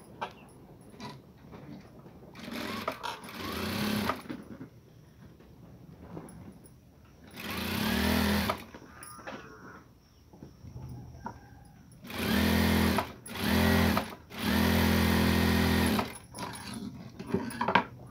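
A sewing machine stitches a simple katori blouse in several separate bursts of rapid, whirring needle action, each lasting a second or more, with quiet pauses and faint handling sounds between them.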